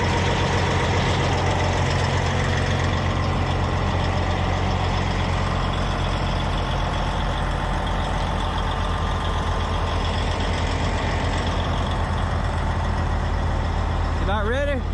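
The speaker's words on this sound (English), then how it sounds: "this is the actual rotor spinning that has the teeth on it that will grind the material up" A large grinder machine runs with its engine throbbing loudly and steadily while the toothed rotor spins, a continuous heavy low drone throughout with speech barely audible over it.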